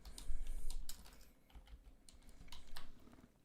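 Typing on a computer keyboard while entering a Python dictionary definition, heard as uneven bursts of close, crisp key clicks with short pauses between them and no talking.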